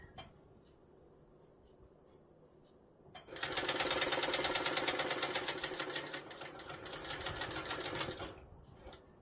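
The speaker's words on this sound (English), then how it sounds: "So now I'm going to go and stitch all the way around that line, and that's going to create our channel." Sewing machine stitching a channel around a tote bag, quiet at first, then a loud, rapid mechanical whirring run of about five seconds with a slight slowdown before it stops.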